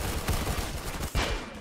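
Gunfire from the video game Arsenal rattles in a rapid burst of shots, close and fairly loud, with a fresh volley near the end.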